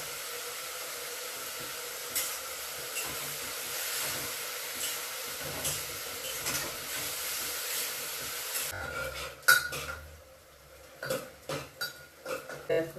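Bitter gourd fries in a pan, a steady soft hiss and sizzle running under faint clinks, then the frying quiets and a few separate clattering knocks of utensils follow near the end.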